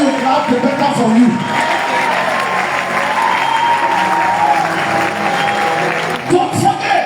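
A crowd at a business motivational seminar claps and cheers loudly, a steady wash of applause with voices and shouts mixed in, some talking underneath, and a brief dip before a final burst.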